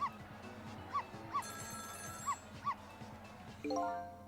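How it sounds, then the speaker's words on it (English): In the Ghost Trick video game, a telephone rings in the neighbouring apartment, a faint repeating tone heard under a low background melody and rhythmic game music. "It was the sound of a telephone ringing, coming from the apartment next door."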